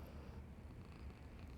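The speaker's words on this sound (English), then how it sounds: "She's still purring." A pet cat purrs softly in a low, continuous rumble, close and quiet, with no voices over it.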